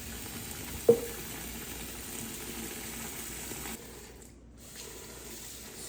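Cold tap water gushes steadily over cooled Korean naengmyeon buckwheat noodles in a sink, a fairly even broadband rush with one short knock near the start, then quieter and thinner toward the end.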